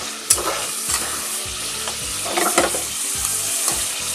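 Chicken roast frying in a pan on a stove, a steady loud sizzle broken by repeated scraping stirs in an uneven rhythm, close up with no voices.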